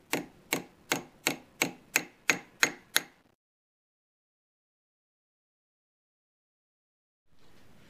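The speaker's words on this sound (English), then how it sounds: "use my old body hammer to" An old body hammer strikes the flattened top of a chisel eight times in steady succession. The metallic blows ring out close and sharp, then the clip falls silent until a faint rustle near the end.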